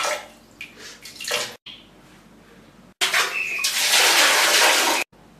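A toilet is flushed: brief splashes of water come first, then a loud rushing gush lasting about two seconds that cuts off abruptly.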